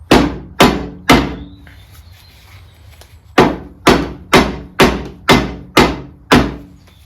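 Steady hammering on a steering component being driven down a 1960 Bolens Ride-a-matic shaft: three sharp close blows, a pause of a couple of seconds, then seven more evenly spaced strikes.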